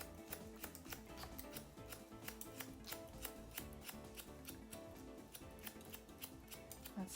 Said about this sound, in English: this is point cutting